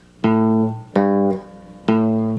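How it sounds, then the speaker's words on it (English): Three separate picked electric guitar notes from a chord in "We Are the Champions" ring out one after another, each sounding clearly for a moment before the next is plucked. "You're actually going to pick that chord."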